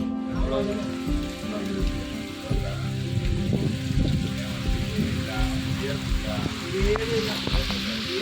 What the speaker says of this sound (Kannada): ಜೋರು ಮಳೆ ಬರ್ತಾ ಇದೆ.